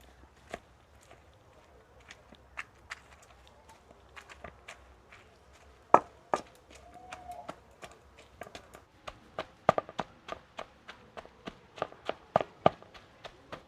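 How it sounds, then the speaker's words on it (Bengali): Boiled jackfruit mashed by hand with a scattered run of sharp, close squelching taps, sparse at first and quickening toward the end, over a quiet background with no talk. "এঁচড়টা ভালোভাবে এরকম বেশ ঝুরি ঝুরি করে থেসে নিয়েছি"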